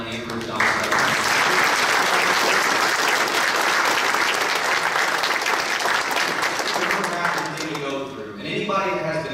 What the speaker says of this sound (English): Ladies and gentlemen, can we give a big round of applause for Thelma and Ruth Dommestrup?